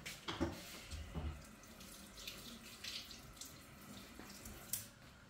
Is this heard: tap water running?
yes